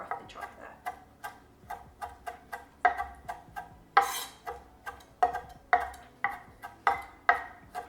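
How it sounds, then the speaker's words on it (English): A knife roughly chops herb leaves on a cutting board, a quick run of crisp, close taps coming in steady bursts, some strokes louder than others, with no voices. "I'm just going to roughly chop that."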